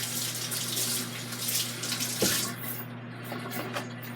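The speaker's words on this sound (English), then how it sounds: "I'm going to put the liquid in here." Minute Maid Peach Punch poured into a personal blender cup, a steady liquid stream running close and continuous over a low background hum.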